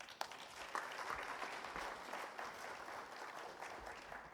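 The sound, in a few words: round of applause at awards ceremony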